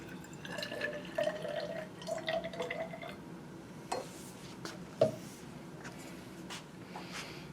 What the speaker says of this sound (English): So, got my trusty DI water. I'm just going to measure out about 70 mils of it.